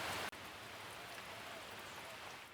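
Steady rain falls over the Jatiluwih rice terraces in Bali, a soft, even hiss of drops on surfaces with no pauses and no voices.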